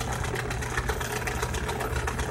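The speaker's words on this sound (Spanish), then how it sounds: "a centrifugar la bomba. Suena así porque la bomba está en mal estado." A washing machine runs its spin cycle with a failing drain pump, giving a steady, dense mechanical whir and rumble with a faint pulsing beat, close and continuous, with no voices.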